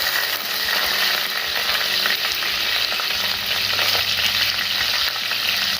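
Split green chillies frying in hot oil with fenugreek for a Kerala sardine curry cooked with kudampuli, a steady loud sizzle with light crackle throughout and no voices.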